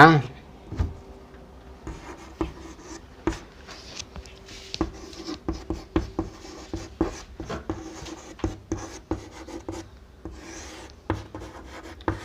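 Chalk scrapes and taps on a classroom board in uneven strokes during a Class 10 chemistry lesson, close and fairly loud, with occasional knocks.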